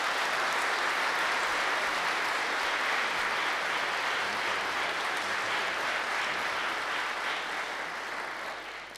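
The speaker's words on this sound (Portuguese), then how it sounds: "ao dar-lhe uma salva de palmas, é para vós, mas também é para Jesus" A church congregation applauding the priest after Sunday Mass, steady dense clapping from many people that fills the hall at a moderate level and tapers slightly toward the end.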